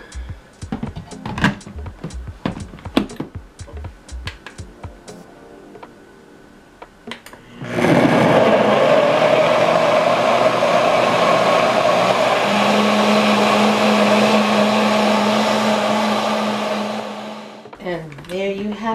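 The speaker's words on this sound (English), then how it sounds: "And now we're gonna pop that in our blender" A blender runs loud and steady for about ten seconds, whirring through a blend of apple for a weight-loss smoothie, then spins down; kitchen clatter and a voice are heard before it starts.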